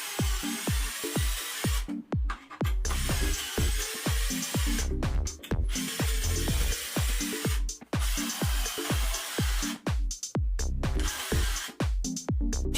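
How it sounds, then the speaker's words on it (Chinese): A Bosch entry-level brushed cordless drill drives screws and bores holes, its motor whirring in steady loud bursts broken by frequent short stops and restarts. "我们还是想对它进行一个平常的开孔呀或者打螺丝的一个测试"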